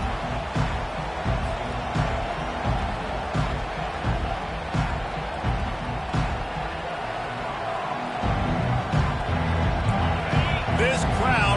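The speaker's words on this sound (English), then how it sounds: "This crowd bringing an ear-splitting welcome to their visitors." A football stadium crowd roars in a steady, loud, continuous wash of noise as the home fans welcome the visiting team, with a commentator speaking over it throughout.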